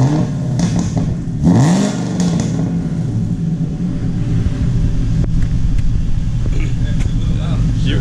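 A Chevrolet Corvette sports car engine revs and rumbles nearby, with a quick rising rev around the middle and exhaust pops, while people talk over the steady motor noise.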